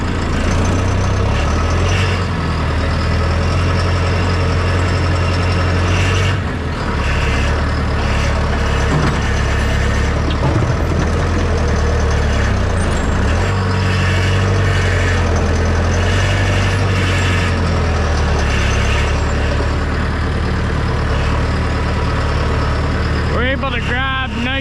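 A loader tractor engine runs steadily at a low, droning idle close by, with someone talking over it throughout.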